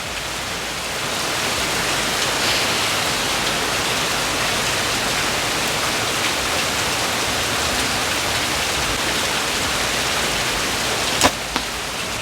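Heavy rain pours steadily during a thunderstorm at an outdoor archery practice spot, a loud continuous hiss that fills the whole clip, with a brief sharp knock near the end and no talking.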